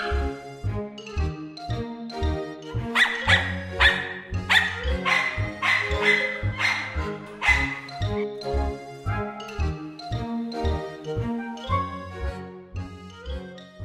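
A Havanese bichon dog barks repeatedly in sharp, close bursts, with rhythmic yips that rise into a louder flurry midway, alone with no speech.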